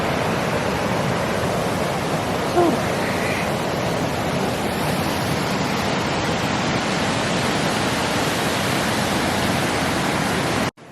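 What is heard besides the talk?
waterfall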